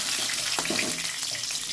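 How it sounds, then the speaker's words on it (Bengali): Tilapia fish fried crisp in oil in a pan, a continuous close sizzling hiss with some wet bubbling, heard alone without talk. "মাছটা আমার ভালো করে ভাজা হয়ে গেছে একটু কড়া করে ভাজলেও হয়"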